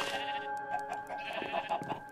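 Minecraft sheep bleating in a short run of repeated nasal calls over a steady background tone, close and moderately loud with no talk.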